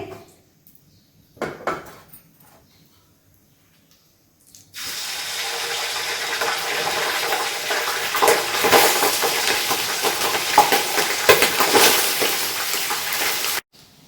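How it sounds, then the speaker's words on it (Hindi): Zarda rice poured into a pot of hot oil with crackling cardamom and cloves, a couple of soft knocks first, then a sudden loud, sustained hissing sizzle that holds for several seconds before cutting off. "अब हम इसमें अपना जर्दा का जो चावल हैं वो हाफ से थोड़े से कम ही बल्कि वो चावल इसमें ऐड करेंगे"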